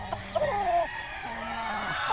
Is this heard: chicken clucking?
yes